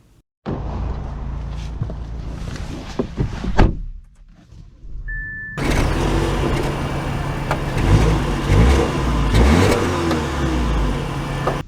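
A 2024 Audi A4 Allroad: a door thuds and cabin handling noises are heard, then the engine starts and runs with a steady drone that swells as the car accelerates, heard close from inside.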